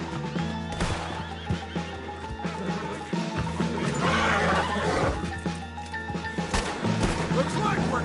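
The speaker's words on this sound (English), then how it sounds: "Put Strauss on the back of John's horse, and let's get out of here." A horse neighs and whinnies loudly in the video game Red Dead Redemption 2, amid clattering hooves, crashes and a busy game soundtrack, with a character speaking over it.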